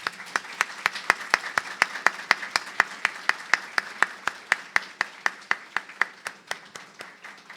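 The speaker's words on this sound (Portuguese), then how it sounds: "Vamos dar uma salva de palmas aos Pais Celestiais?" A church congregation claps in a slow, evenly spaced rhythm. Each clap rings out crisply and close, with little crowd noise between the beats, and the clapping carries on steadily.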